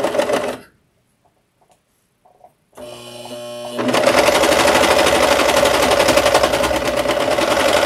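A sewing machine stitches along the hem of a pillow cover, a close, steady rapid mechanical whirr after a brief pause and a slower start, loud and continuous with no talk.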